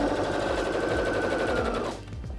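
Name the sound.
Singer HD6600C sewing machine stitching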